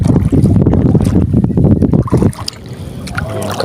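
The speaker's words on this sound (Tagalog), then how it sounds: "Lakas ng hangin mga kabuli." Strong wind buffets the microphone out on open water from a small fishing boat, a loud, continuous low rumble with gusty bursts that eases slightly near the end.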